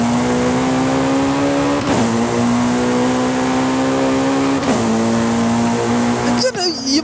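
A Jaguar C-X75 with a 1.6-litre four-cylinder engine in Forza Horizon 5 screams at high, steady revs, loud and close, with quick dips at each gear change and a final drop near the end.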